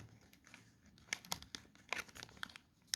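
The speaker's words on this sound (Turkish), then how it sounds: "Bakın burada SATA dönüştürücüsü var. Daha poşetini ilk defa açacağım." Plastic bag holding a SATA adapter for an Asus TUF Gaming F15 laptop is opened up close, giving a few sharp crinkles and rustles spread over a few seconds.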